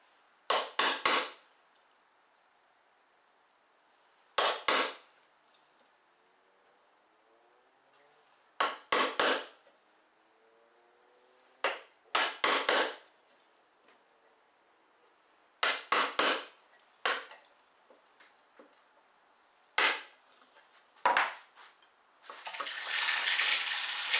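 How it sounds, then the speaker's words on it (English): A chisel squaring up a stopped groove in white oak, heard as sharp separate taps and chops in short clusters with quiet gaps between, close and clear, ending in a brief scraping burst. "the groove with the chisel when you're done"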